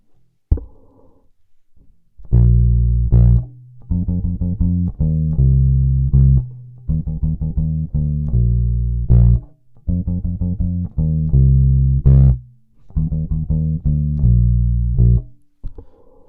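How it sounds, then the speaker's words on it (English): Bass guitar playing a riff, loud, clean, deep plucked notes in repeating phrases, with short pauses between the groups of notes. "So the riff sounds like this."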